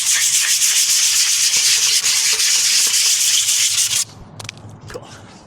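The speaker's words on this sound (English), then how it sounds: "Why don't we just sand it one more time for good measure?" Sandpaper rubbed briskly over a skateboard deck in a steady, loud, close scraping that runs for about four seconds, then stops, leaving faint handling noises.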